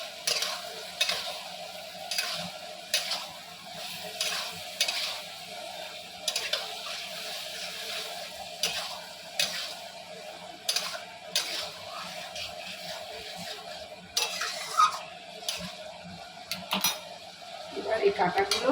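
Malabar spinach and fish bones are stirred in a pan, giving repeated scraping and clinking of a utensil against metal in an irregular rhythm, close and moderately loud, over a faint low sizzle.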